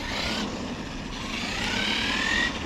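A Losi LMT RC monster truck running at half throttle makes a steady, close electric motor whine that climbs slightly in pitch, over gritty tire and drivetrain noise.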